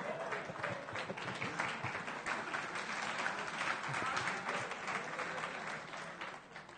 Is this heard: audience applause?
yes